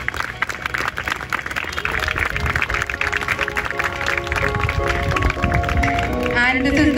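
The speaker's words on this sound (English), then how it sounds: "So huge round of applause" Applause and clapping from a crowd at a school sports day at Spring Dale College in Lucknow, honouring the children, steady and loud throughout with voices and background noise mixed in.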